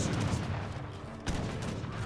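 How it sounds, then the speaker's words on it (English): Heavy cannons and artillery boom in an Age of Empires 3 battle, a dense, loud rumble of repeated shots with one sharp blast near the end, continuous and without talk. "We now have more heavy cannons."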